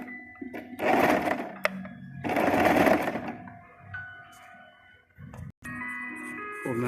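Sewing machine running in two long stitching bursts through fabric, close and fairly loud, with brief pauses and small handling clicks between runs.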